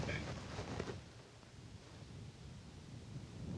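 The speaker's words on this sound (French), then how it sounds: "Le vent." Low, rumbling wind buffets the microphone steadily, faint and broad, with a brief brighter bit at the start and no clear voices.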